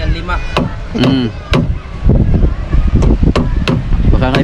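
Hammer blows on wood during boat building, a run of sharp, loud strikes at an uneven pace over steady outdoor wind noise, with people talking between hits.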